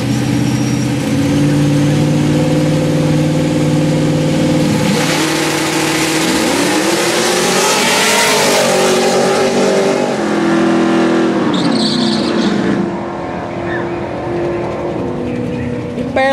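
Mustang II and Camaro drag racing, loud close engine drone holding steady, then climbing as the cars launch and rev through gears, with the pitch shifting and fading toward the end.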